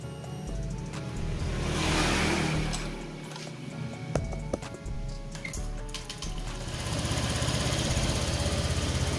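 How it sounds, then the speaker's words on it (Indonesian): Honda Vario FI scooter engine running with a radiator and mechanical seal fault, a steady close idle hum with some rougher moments, no talk over it. "Oke, motornya sudah hidup."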